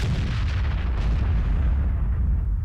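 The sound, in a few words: giant cannon firing in a video game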